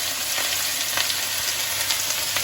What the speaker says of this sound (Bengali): সবার প্রথমে আমি আদা আর রসুনের কুচিটা দিয়ে দেবো